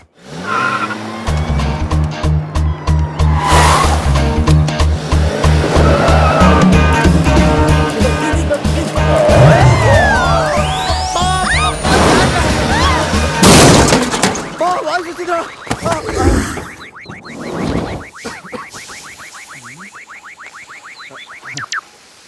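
A car skids with squealing tyres and then crashes in a Telugu comedy film scene. Loud engine and skid noise build under voices and music before a sharp crash, followed by clattering debris.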